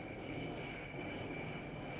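Military aircraft such as an F-4J Phantom or A-4 Skyhawk launching off an aircraft carrier deck: a steady, loud engine roar with a broad rushing wash and a high whine holding throughout, no voices.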